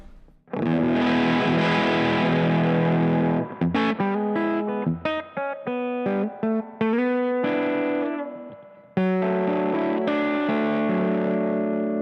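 Electric guitar played through an Earthquaker Devices Hoof Reaper fuzz pedal: thick, saturated sustained chords, then a run of choppy distorted notes and a final ringing chord, loud and up close with no talking.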